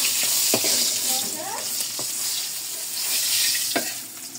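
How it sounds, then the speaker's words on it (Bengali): Fish frying in a pan, a close and continuous crackling sizzle broken by several sharp taps of a utensil against the pan, with no talking. "মাছ ভাজা হয়ে গেছে, এখন তুলে দিব।"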